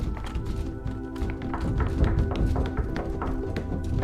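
A door in the horror game Pathologic 3 bangs and thuds loudly and repeatedly, its heavy knocks sounding close over a dull background rumble.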